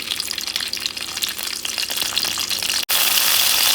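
Green chilies frying in oil in a pan, a loud, dense hiss and crackle that runs steadily, breaks off for an instant and resumes.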